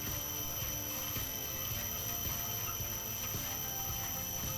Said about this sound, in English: just to demonstrate how slow this thing can turn tires